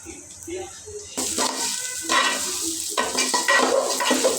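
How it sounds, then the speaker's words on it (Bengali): Pulao rice frying in a pan, stirred steadily with a spoon. A soft sizzle and scraping become louder and continuous after the first second, with occasional clinks against the pan. "এখানে চালটা খুব ভালোভাবে ভাজতে হবে।"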